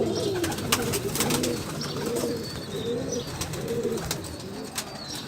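Golden breeder pigeons cooing in a repeated, soft, throaty rhythm close by, with faint chirps and background rustle.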